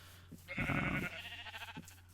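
A single sheep on a video game village farm gives one clear bleat, a wavering call lasting about a second, close and alone against a low steady background hum.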